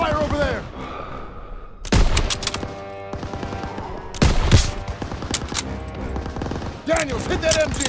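Bursts of rifle and machine-gun fire in the World War II shooter Call of Duty WW2 crack in loud clusters with pauses between them, over battle noise and shouted voices.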